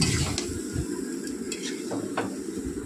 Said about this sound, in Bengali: দিয়ে খুব ভালো করে এটা সমস্ত উপকরণের সঙ্গে কচু ডাঁটাটা ভাজতে থাকবো